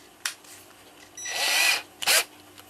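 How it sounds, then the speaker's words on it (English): A power drill drilling out holes in cuckoo clock parts briefly spins up in short bursts, then runs in a steady whine for under a second before stopping, close and fairly loud. "drill those out with a slightly smaller"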